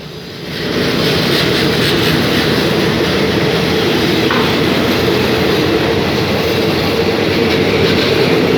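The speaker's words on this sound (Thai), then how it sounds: "ขบวนรถก็จะไปจอดอีกทีที่สถานีปักท่อ" Ordinary train 255 leaves Ratchaburi station in Thailand, a loud, steady rumble of wheels and carriages that builds within the first second and then roars on without a break.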